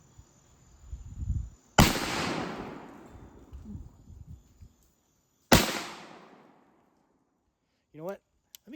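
Two loud, sharp gunshots a few seconds apart from an Ithaca Auto and Burglar or Pedersoli Howdah, each a sudden blast with a long echoing decay outdoors, with soft movement noises between.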